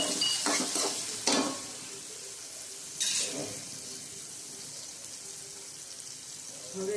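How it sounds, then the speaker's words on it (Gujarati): Tomatoes frying for dal fry in a covered pan give a low, steady sizzle, broken by two or three brief clattering bursts of stirring or lid movement near the start. "આપણે ટમેટા તળવા દઈએ જરીક વાર ઢાંકીને"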